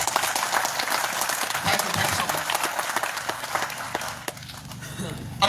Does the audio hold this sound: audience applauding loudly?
yes